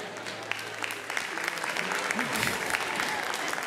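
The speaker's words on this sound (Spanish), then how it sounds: "Escucho esos aplausos así, medio de manos finas" A church congregation applauds during a pastor's sermon, a steady moderate clapping that holds throughout while a voice speaks briefly under it.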